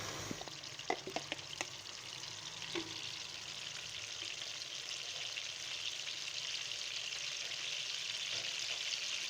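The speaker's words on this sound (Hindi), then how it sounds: "मीडियम लो फ्लेम पे फ्राई कर लेंगे।" Marinated potatoes fry in about half a cup of oil over a medium-low flame for a potato biryani, giving a steady soft sizzle with a few faint clinks early on.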